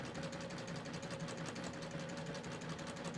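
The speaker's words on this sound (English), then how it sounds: "You always want to start stitching with fabric under the needles because that helps the stitch start to form faster." A cover hem sewing machine stitches along a fabric edge, making a steady, continuous mechanical whir at moderate volume throughout, close by and uninterrupted, with no voices.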